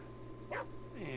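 A voice in the video game GTA 5 imitates a dog, giving a short bark followed by a whining yelp, close and clear over faint background hum.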